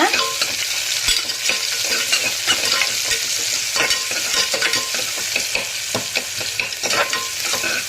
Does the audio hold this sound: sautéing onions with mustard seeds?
yes